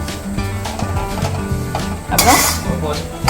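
A spoon scrapes and clinks against a pan while semolina is stirred in ghee for sheera, an Indian sweet. The stirring comes in irregular metallic knocks and scrapes close by, with a louder rattling burst near the end.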